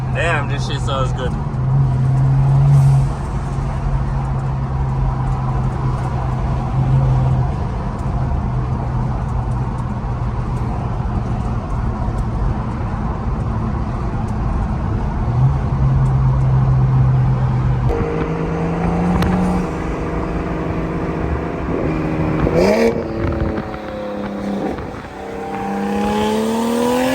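A BMW 440i fitted with a Speed Tech top-mount 6466 turbo drones steadily while driving, with surges of acceleration and rising revs near the end, heard from inside the cabin under occasional talk.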